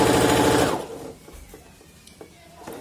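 A sewing machine stitches a skirt seam in a loud, steady whir for just under a second, then stops, leaving quiet handling noises and light clicks.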